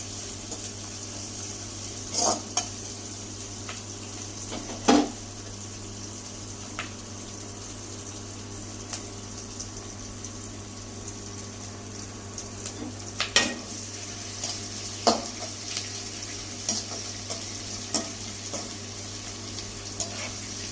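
Onions sautéing in a pan, a faint low sizzle under a steady hum, broken by occasional scraping clatters as a spoon stirs them; no voices.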